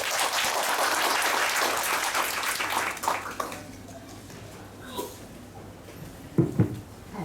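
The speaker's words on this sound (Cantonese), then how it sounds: "大家俾啲掌聲" An audience applauds steadily for a few seconds, the clapping fading out, followed by quieter room noise and a couple of brief knocks.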